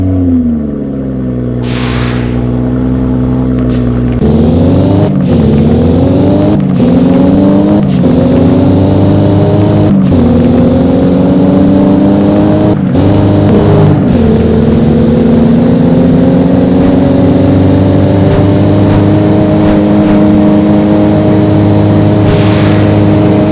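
A loud Toyota car engine in the Roblox game Driving Empire idling and revving, the pitch climbing and dropping through several quick gear shifts before settling into a steady drone, with no talking.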